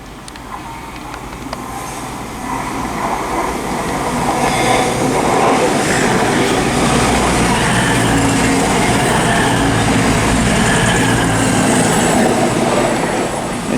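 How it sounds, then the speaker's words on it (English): A CrossCountry service from Bournemouth to Manchester Piccadilly rushes through Reading West station on the Great Western Main Line, its roar building quickly and holding loud and close with rhythmic wheel clatter. "next train to pass through is going to be a cross-country service to Manchester Piccadilly from Bournemouth"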